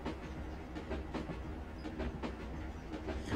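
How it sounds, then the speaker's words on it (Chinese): A train runs steadily along rails, a continuous rumbling roll with faint rhythmic clatter of wheels over track joints, heard moderately close with no voices. "阿斌啊，这里的专练马上就到了啊！"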